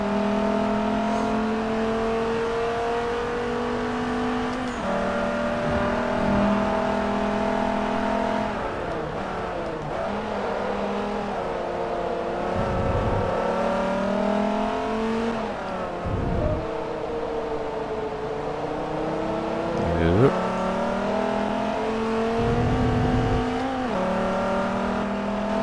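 A Dodge race car's engine in Forza Motorsport 3, held at a loud, steady roar with repeated rising revs and shifts through the gears, close and continuous with no talk.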